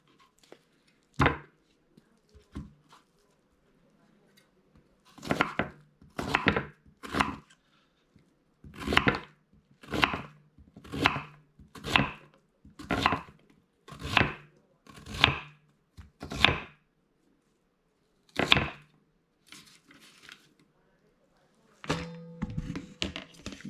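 A knife chops chayote on a cutting board in a run of about a dozen sharp, evenly spaced thunks, close and clear, with a few lighter taps before and after.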